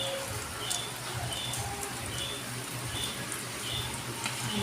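Steady rain hisses continuously, with scattered drips and patters standing out against the constant wash.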